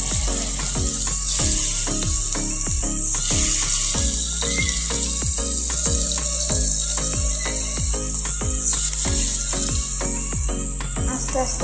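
Fish coated in turmeric, chili and salt fries in hot oil in a wok with a loud, steady sizzle, broken by regular clicking knocks.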